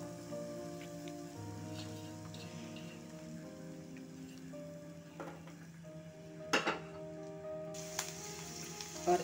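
Chopped onion sizzles in a hot pan with crackling cumin, a soft steady crackle and hiss running throughout with a few light clinks of utensils against the pan.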